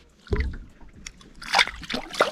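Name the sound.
smallmouth bass released back into the lake water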